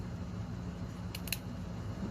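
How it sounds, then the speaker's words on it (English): Sharp scissors snip through fabric seams on a multi-colour rosette project, giving two quick, close crisp cuts in a quiet room with no speech. "Now this is why you would want a sharp pair of scissors."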